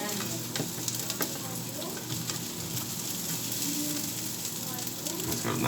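Food fries with a steady, close sizzle in a pan while it is poked and moved around, with light scraping taps on top and a voice talking at times.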